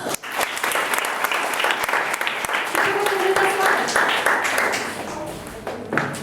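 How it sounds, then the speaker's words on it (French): Comedy show audience bursts into sustained applause, dense clapping from a crowd of spectators holding steady for several seconds, with a few louder claps near the end and faint voices mixed in. "J'aimerais vraiment que vous applaudissiez ma copine de ce soir."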